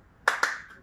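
Children in a classroom clap their hands while catching a balloon, two quick sharp claps close together, crisp and near, followed by a short fading ring.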